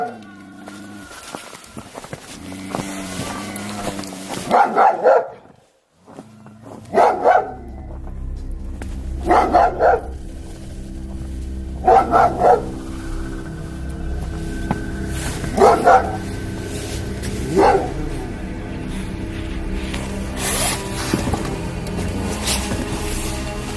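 A dog barks in short bursts, repeated several times at irregular intervals, with a person talking and background hum between barks.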